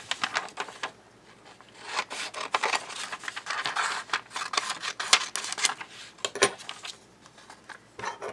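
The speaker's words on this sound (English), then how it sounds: "let's take this with some scissors" Scissors cut through material in a series of uneven snips and rasping strokes, close by, with short pauses between cuts.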